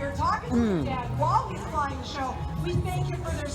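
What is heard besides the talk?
No everyday noise stands out behind the speech.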